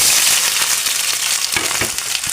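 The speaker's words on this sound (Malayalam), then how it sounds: "ചട്ടി വെച്ച് വെളിച്ചെണ്ണ ഒഴിച്ച് കൊടുത്തിട്ടുണ്ട്. അതിലേക്ക് നമുക്ക് ഈ അരിഞ്ഞ് വെച്ച സവാള ഇട്ട്," Chopped onions fried in coconut oil in a pan for a Kerala mackerel pepper dish, giving a loud, steady sizzle with crackling spits, with no talk.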